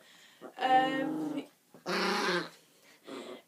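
A pet dog close to the microphone lets out drawn-out whining, growling vocalizations in three separate bursts, loud and near, with pauses between them.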